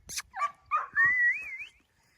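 A big Cane Corso puppy gives a short yip, then a rising, wavering whimper that stretches into a drawn-out whine, close by with soft background noise between the sounds.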